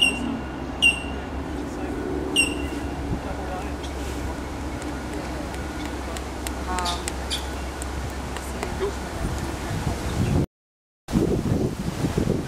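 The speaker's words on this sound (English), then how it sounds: "it's a bit windy, so hopefully you can hear me over the top of the wind" Wind rushes steadily over the microphone in low, rumbling gusts, with a few faint bird chirps and brief dropouts near the end.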